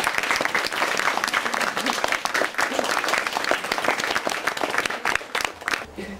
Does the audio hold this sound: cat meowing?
no